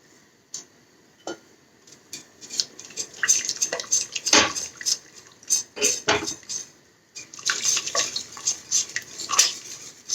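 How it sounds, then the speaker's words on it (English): Red enchilada sauce being mixed in a pan, with a spoon scraping and tapping against the metal in irregular clinks and stirring strokes, fairly close and alone with no talk. "You have to add that into your sauce and mix it properly so there are no lumps or any sort."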